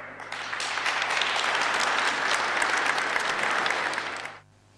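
Sustained applause from a political gathering's audience, steady dense clapping for about four seconds before stopping abruptly.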